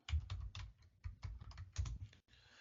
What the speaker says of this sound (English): On Windows, what you could do is you could type ipconfig,